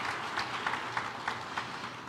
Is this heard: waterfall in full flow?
no